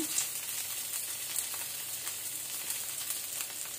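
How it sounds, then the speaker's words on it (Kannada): Onion and green chillies fry in oil in a pan with a continuous soft sizzle and crackle, fairly quiet and steady, with no talking. "ಈಗ ಸ್ವಲ್ಪ ನಾವು ಈರುಳ್ಳಿ ಫ್ರೈ ಮಾಡ್ಕೊಳ್ಳುವ"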